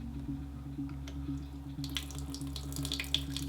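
Water trickles and splashes steadily as it is poured into an aquascape tank before planting, over a constant low mains hum, with brighter splashing in the second half.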